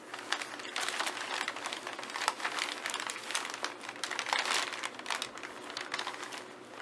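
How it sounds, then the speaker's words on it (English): A cat lies in a stack of paper, shifting about and crinkling it in a continuous, close, rustling crackle of small irregular bursts with no talk over it. "my cat just loves to lay in just a stack of paper"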